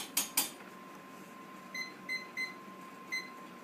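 A kitchen timer being set gives a few short, faint electronic beeps in a quiet kitchen, spaced unevenly after a couple of soft clicks, with no talking.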